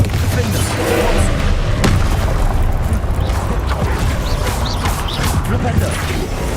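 A Confringo blasting spell explodes in the video game Hogwarts Legacy, a heavy boom with a crashing thump near the two-second mark, buried in a dense, constant wash of game effects and mechanical rumble.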